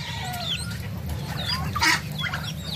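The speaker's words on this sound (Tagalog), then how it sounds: "Ito naman yung mga bagong sisiw." Newly hatched chicks on a farm chirp and peep in a busy flock, with bright, overlapping calls over a low background hum.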